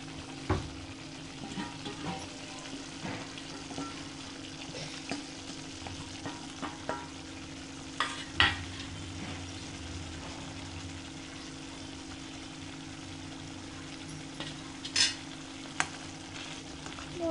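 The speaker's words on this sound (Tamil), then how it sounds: "போட்டுட்டு நல்லா கிண்டி விட்டுருங்க" Kadai paneer gravy being stirred after dry roast powder is added, a quiet bubbling simmer with scattered spoon scrapes and clinks against the pan, faint and without speech.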